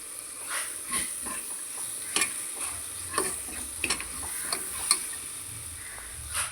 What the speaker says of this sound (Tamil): அந்த எண்ணெயிலையும் எவ்வளோ கொஞ்சம் வதக்க முடியுமோ அவ்வளோ கொஞ்சம் வதக்கி விட்டுருங்க